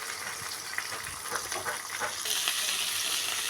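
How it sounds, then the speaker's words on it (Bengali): Fish fries in hot oil, a soft continuous sizzle with scattered crackles and pops that swells somewhat louder toward the end; no talk. "আমি কড়া মাছ ভাজা পছন্দ করি, একটু কড়া করেই ভেজে নিচ্ছি।"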